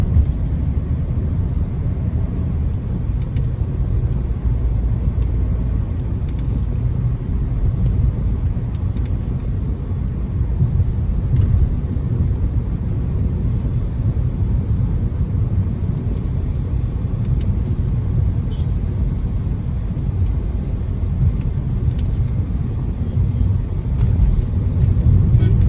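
Steady traffic on a motorway in India meant to be two to three lanes, a continuous low rumble of passing vehicles with occasional higher engine and tyre noise, loud and unbroken throughout.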